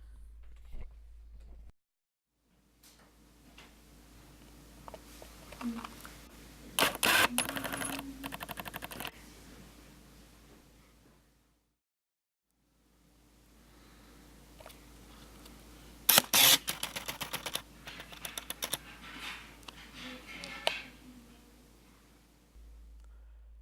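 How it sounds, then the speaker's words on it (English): Canon f/1.4 and f/1.8 lenses autofocus in live view, giving two separate bursts of soft whirring and clicking motor noise close by, split by a quiet gap. "This next part compares the speed of autofocus on both lenses while using live view mode."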